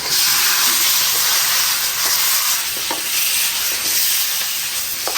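Chicken pieces stir-fried in a wok with pork belly, scallion, ginger, garlic and star anise, a loud continuous sizzling hiss with faint scraping of the spatula.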